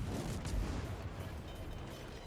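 High-explosive shells fired from a Minotaur tier 10 British light cruiser in World of Warships, a dense continuous booming rumble of rapid gunfire with heavy low end, steady and loud throughout.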